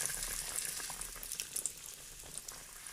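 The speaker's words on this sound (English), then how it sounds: "Oh, we can hear it sizzling." Breakfast food frying in a pan, a steady crackling sizzle with bright spitting pops throughout, heard close and alone at moderate volume.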